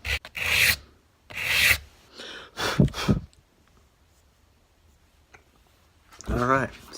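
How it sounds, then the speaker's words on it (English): Flat sanding of a wooden banjo part during assembly, heard as three or four loud, broad rasping strokes close by, each about half a second, followed by quieter scraping and a pause before another burst. "do a nice flat sanding"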